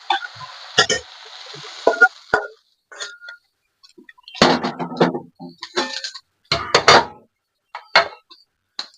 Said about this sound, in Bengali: দিয়ে আমরা এটা কিছুক্ষণ একটু ভেজে নেবো